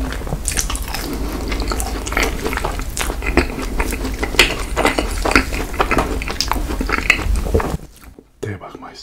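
Crisp biting and chewing of a Baskin-Robbins macaron with ice cream inside, heard up close as a dense run of crunchy bites and moist chewing that stops abruptly near the end.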